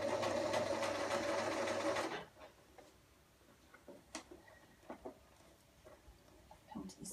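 A sewing machine stitches a seam in a fast continuous whir for about two seconds, then stops, leaving quiet room sound with scattered light ticks and taps.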